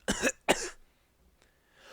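Two sharp, close coughs in quick succession, followed by near silence with a faint rustle at the end.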